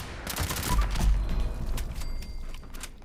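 Rapid gunfire rattles out in Fallout 76 as a commando build lands critical headshots, a dense fusillade of loud automatic shots with sharp pops and thumps, followed by fainter clicking mechanism sounds and game tones.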